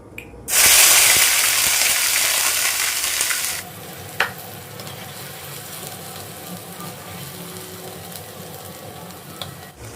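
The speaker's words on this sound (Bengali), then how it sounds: "এবার তেলটা মধ্যে আমি মশলা ভাজতে ভাজতে মাছটা কাঁটাগুলো সব বের করে নেবো" Spices frying in hot oil in a pan while cooking a stuffed eggplant dish: a loud, dense sizzle bursts in and holds for about three seconds, then drops to a quieter, steady crackle with a brief pop, with no talking.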